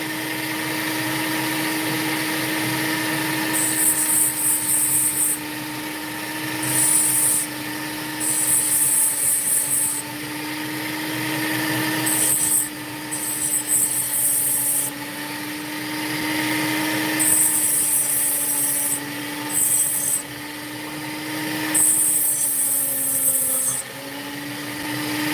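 Power tool whirring steadily while an opal stone is polished, a continuous hum with a rising high-pitched whine that cuts in and out in short bursts as the stone meets the wheel, no talking.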